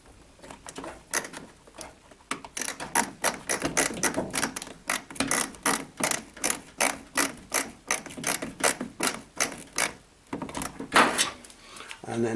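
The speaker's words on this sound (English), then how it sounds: "I use a magnetic screwdriver and then just start the threads, move the thermostat into place" A magnetic screwdriver works a screw into a tumble dryer thermostat, giving a long run of rhythmic ratcheting clicks, close and crisp, in repeated bursts with short pauses.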